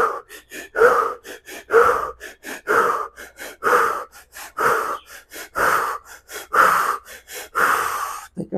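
Heavy rhythmic breathing during a workout, a series of about sixteen sharp, loud close-up breaths in and out at a fast, steady pace, with no talking.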